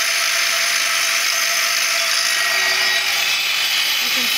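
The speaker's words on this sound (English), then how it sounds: "This is the main spindle at 3500 RPM." The main spindle of a Citizen L2016 CNC Swiss lathe runs at 3500 RPM, a steady, loud, close mechanical whir and hiss that holds evenly throughout with no pauses.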